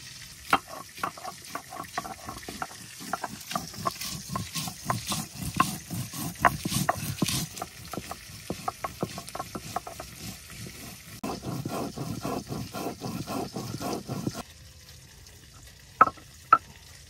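Ripe red chilies are ground by hand on a stone, close up, in a run of rhythmic rasping and scraping strokes that speed up and slow down, with short pauses and a few sharp knocks near the end.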